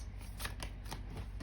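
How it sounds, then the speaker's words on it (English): A deck of tarot cards is riffled and shuffled up close. Soft, papery flicks and brushing sounds come in quick bursts over a steady background hiss. The sound is faint and no one speaks. "I was shuffling and I dropped a card."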